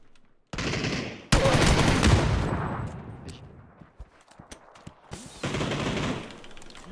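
Gunfire in PUBG on the Erangel map: loud bursts of automatic fire come in separate volleys with short gaps between them, and there is no talking during the shooting.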